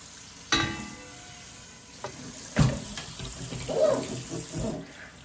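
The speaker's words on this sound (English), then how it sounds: "I'm gonna go ahead and dump them in the colander, and I'm gonna run some cold water over them" Cold water from a kitchen tap running over uncooked, snappy green beans in a colander, with a few sharp clatters and bumps as the water splashes and gushes unevenly, close and fairly loud.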